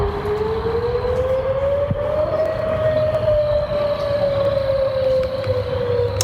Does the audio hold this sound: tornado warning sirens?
yes